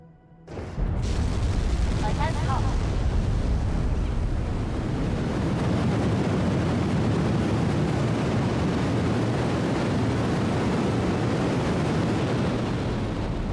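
Solid rocket motors roar during a straight-up launch in Kerbal Space Program 2. A brief quiet opening gives way to a sudden, loud, steady rumble that holds without a break to the end.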